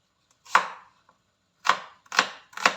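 A knife chops onion into small pieces on a board: one sharp cut, a pause, then three quick close chops in a row, crisp against near silence.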